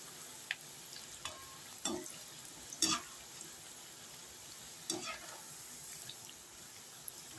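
Faint, steady sizzling of ragi pakoda frying in oil, with a few soft clinks and stirring sounds scattered throughout.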